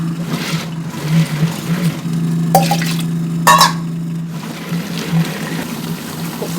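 A wet grinder churning sorghum millet dosa batter with garlic and cumin, a steady low motor hum under wet sloshing and scraping, with a few sharper clatters in the middle.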